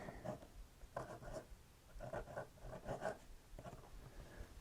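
A vintage Waterman 55 fountain pen nib scratches across paper in short, faint strokes with pauses between, close and quiet in an otherwise still room.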